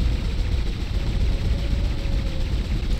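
Sci-fi weapon fire and combat noise from Dead Space rumble in a dense, low-heavy barrage, steady and fairly loud with no clear separate shots.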